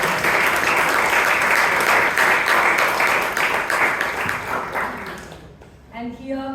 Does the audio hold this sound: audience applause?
yes